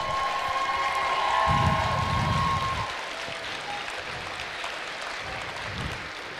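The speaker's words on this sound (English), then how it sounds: "Let's give them a round of applause." Audience applause at a youth robotics qualifier event, dense clapping from a large indoor crowd that swells then gradually thins, with a brief tone and faint voices underneath.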